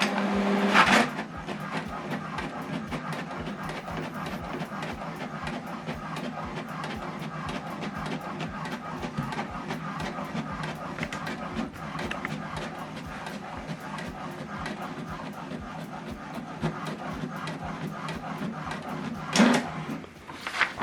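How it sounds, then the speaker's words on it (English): An HP Deskjet inkjet printer feeding and printing a page, a steady mechanical whir with rapid rhythmic carriage clatter running throughout, framed by louder paper-feed clunks at the start and end, close and moderately quiet. "So this document now is printing."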